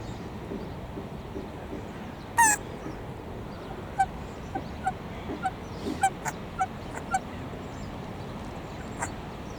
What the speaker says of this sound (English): Is that an Egyptian goose maybe?